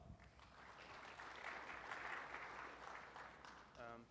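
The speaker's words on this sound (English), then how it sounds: "give him a round of applause" Audience applause at a lightning talk session, a steady crowd clapping wash that holds for about four seconds at moderate level before a voice starts speaking at the end.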